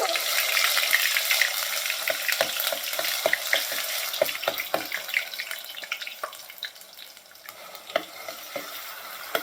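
Onion paste frying in oil in a pan with bay leaf and cloves, being stirred for Amritsari pindi chole; a steady close sizzle with frequent scraping clicks of a spoon throughout, no talking.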